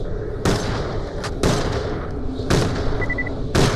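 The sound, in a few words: Boomicorn gun firing in video game Borderlands: The Pre-Sequel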